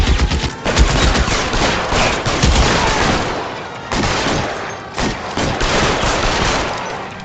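Heavy gunfire from a shootout in the video game L.A. Noire: dense, continuous volleys of shots and bursts, loud and close, with brief lulls near the four- and five-second marks.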